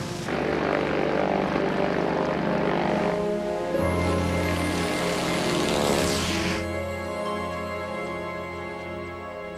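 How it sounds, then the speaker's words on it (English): Propeller aircraft engine droning loudly and steadily from the start, its pitch and tone shifting midway as it powers up for takeoff, then easing slightly toward the end with no voices. "His plane didn't wake you up? He took off at the crack of dawn."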